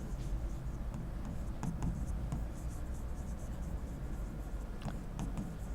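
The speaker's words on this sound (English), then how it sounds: "I will write all the steps here" Pen or marker writing out the steps for solving a quadratic equation, a steady soft scratching with faint taps over a constant low room hum, close and fairly quiet.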